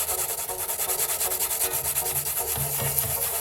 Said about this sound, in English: I used P600 sandpaper, a relatively coarse grit, and sanded firmly and evenly across the coated surface.